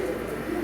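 Pet bird calling from inside its nest box in an indoor enclosure, a steady soft cooing tone held for the short moment, close and moderately loud.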